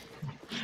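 A dog-like zombie creature in Call of Duty: World at War Nazi zombies mode gives a short, close, low growl with a whimpering edge in two quick bursts.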